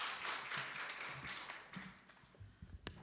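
Audience applause welcoming Professor Cho Eun-hee to the podium at a Korean nursing research memorial conference, a steady wash of clapping from many hands filling the hall, with a few louder nearby claps toward the end.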